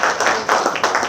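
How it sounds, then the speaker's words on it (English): Brief scattered clapping from a small audience at a panel discussion, a short burst of hand claps heard close and fairly soft. "so a big round of applause to the entire"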